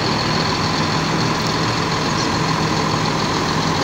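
Epastar bus just arrived from Palembang, its engine idling at a steady low rumble close by, with no voices.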